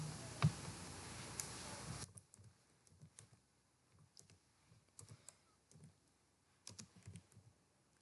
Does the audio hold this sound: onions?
no